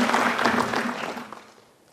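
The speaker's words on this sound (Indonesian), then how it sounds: "Tepuk tangan dulu dong buat Kelungkung" An audience at a Bali quiz semi-final applauds the Klungkung team, the clapping starting full and then fading away over a couple of seconds.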